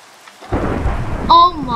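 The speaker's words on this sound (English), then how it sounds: "Rain." Rain and a rolling thunderclap in the Minecraft video game, a sudden loud rumble over steady rainfall, with a short electronic tone near the end.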